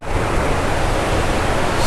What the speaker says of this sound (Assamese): এইফালে চাওক, নদী তেনেকৈ বৈ আছে।